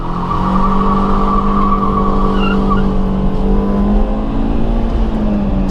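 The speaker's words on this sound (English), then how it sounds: "the problem is now the front wheels keep spinning and spinning and spinning" Modified front-wheel-drive car with upgraded brakes revving hard near 7,000 RPM as the front tyres spin and squeal, a loud steady engine drone with tyre screech running throughout.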